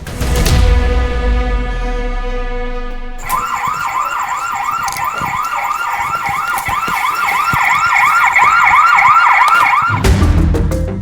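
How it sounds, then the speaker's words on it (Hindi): A loud electronic CCTV camera alarm wails in a fast warbling pattern, cutting in abruptly after a low drone and stopping just before the end. "ये सीसीटीवी कैमरे की आवाज थी।"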